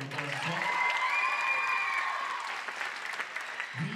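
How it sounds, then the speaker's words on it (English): Audience applause in an auditorium at a high school and junior high choir Christmas concert, a steady wash of clapping from a large crowd that swells, holds, then tapers off over a few seconds, with a faint tonal hum underneath. "give her a big round of applause as well."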